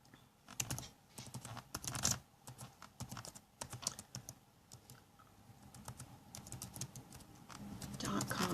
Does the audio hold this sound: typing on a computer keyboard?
yes